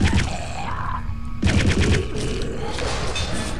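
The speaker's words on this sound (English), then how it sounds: "Look at the bullets ricocheting everywhere" Rapid gunfire with bullets ricocheting in the Return to Castle Wolfenstein video game, loud, dense bursts of shots that pause briefly and then resume with sharp metallic pings.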